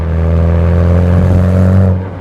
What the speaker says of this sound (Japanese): ここぐるっとワインディングでマフラーの音立ち上がり